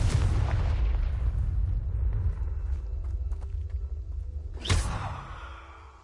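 A Confringo blasting spell explodes in a Harry Potter video game, a deep rumbling boom that fades slowly, followed by a sharp whooshing blast near the end.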